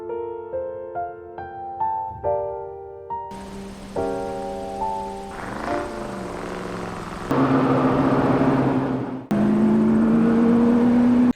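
A racing car in a film accelerates hard, its engine whine rising in pitch and growing louder in harmonic sweeps, preceded by stepped tonal sounds, with no talking.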